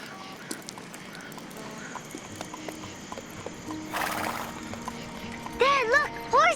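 Horse hooves clip-clop in a steady, moderately distant rhythm of light clicks, followed near the end by a louder, closer neigh.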